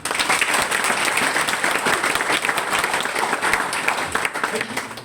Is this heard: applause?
yes